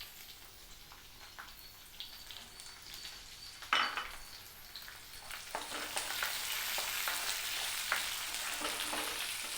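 Onions fry in a pan for red capsicum chutney, giving a steady sizzle that grows louder, with a sharp clank of a utensil against the pan and light stirring scrapes throughout.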